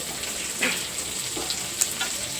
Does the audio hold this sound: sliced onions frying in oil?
yes